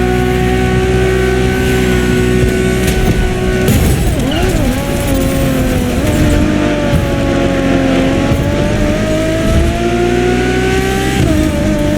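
A Ferrari Enzo supercar engine in The Crew Motorfest, loud and continuous, with steady revving that dips and climbs through gear changes and no talk.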